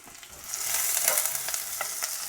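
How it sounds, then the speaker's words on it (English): Onions fry in hot oil with torn curry leaves for a potato curry, a steady bright sizzle crackling and spitting close by, with a few louder pops and no talk. "those onions are going to just fry away in that oil and turn sort of a golden color"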